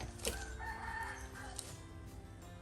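A rooster crows in a rural outdoor setting while bitter mushrooms are being cooked, one moderately loud crow heard over steady background noise with no talk.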